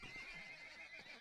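A horse standing on spikes in a video game lets out a whinnying neigh with wavering tones, steady and fairly close, with no talking over it.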